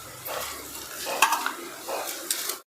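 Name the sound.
stirring curry with chili powder in a pot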